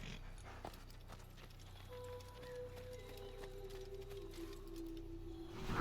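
A horse's hooves clip-clop in the Assassin's Creed video game, a steady light patter under game music and ambient tones, with no talking.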